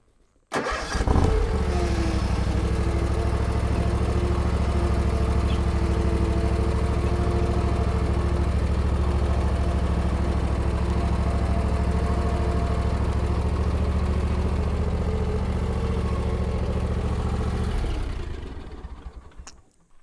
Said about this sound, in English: I love this lawnmower just because you see how quick you can mow around stuff and get your yard mowed.